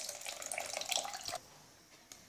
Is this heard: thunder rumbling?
no